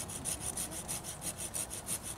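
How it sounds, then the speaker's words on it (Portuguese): A hand saw cuts upward through a rotten white mulberry branch in quick, even back-and-forth strokes, about ten rasping passes, close and clear with no speech. "Você vê que eu tô fazendo de baixo pra cima o serrote."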